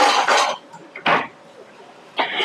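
Metal pots, pans, a kadhai and a pressure cooker clatter in short bursts as they are handled in a kitchen cabinet, three or four separate clanks with quiet gaps between.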